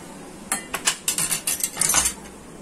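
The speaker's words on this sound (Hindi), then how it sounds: "इलायची को कूट लें अच्छी तरह से" Green cardamom pods being crushed for rice kheer in a home kitchen, about eight sharp pounding knocks in an uneven rhythm, close and fairly clear with no talking.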